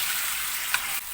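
Chicken masala sizzles and fries steadily in a pan, a soft continuous hiss with a faint tap partway through, no voices.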